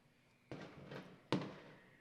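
Fireworks going off outside, two distant muffled booms about a second apart, each trailing into a brief rumbling decay.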